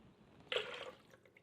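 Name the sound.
pouring coquito mixture into a blender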